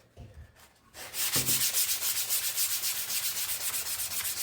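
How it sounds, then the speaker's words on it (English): A sanding block rubs back and forth across a wooden Les Paul kit guitar body in quick, even strokes, a close, rhythmic scratching that settles into a steady pattern after a few soft taps at the start. "We're going to start with a sanding block and then move to doing it by hand."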